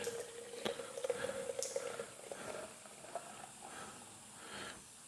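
Warm water poured from a container, a soft, steady hissing splash with scattered drips, fairly quiet and without voices.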